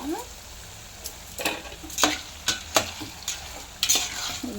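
Crushed garlic and bitter gourd stir-fry in a hot pan for pickle, a steady sizzle broken by repeated scraping stirs, fairly close and at moderate loudness.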